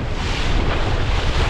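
Strong wind roars across the microphone on an open fishing boat heading home about 17 km off the coast, with the rush of waves beneath; a steady, loud, close buffeting with no talk.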